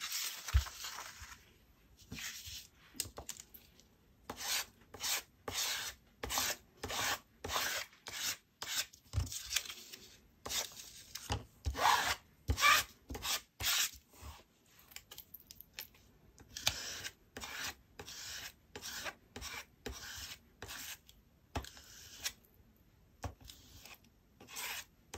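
A light coating is smoothed across a card by hand, giving a series of short rubbing, rasping strokes in an irregular rhythm, close and fairly quiet, with brief pauses between passes and no talking.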